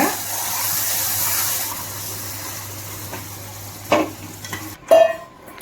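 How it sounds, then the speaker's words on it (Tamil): Water hisses and sizzles into a hot pan of roasting semolina on medium flame, followed by a few scraping stirs and clinks of a utensil. "இப்ப சேர்த்துப்போம் தண்ணிய"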